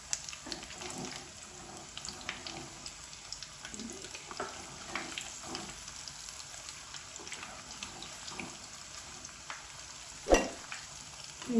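Spinach fritters fry in oil over a medium flame, a soft continuous sizzle with scattered crackles, punctuated near the end by a sharp utensil clink.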